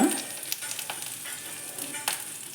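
Ginger garlic paste with turmeric frying in a pan, a steady close sizzle broken by a few soft stirring scrapes, with no talking.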